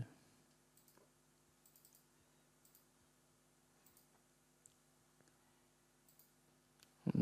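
Quiet, sparse mouse clicks while working in engineering simulation software for a stress and deformation analysis, isolated faint ticks spread across a near-silent background.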